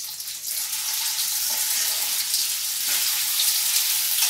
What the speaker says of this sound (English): I'm going to toss my gnocchi now.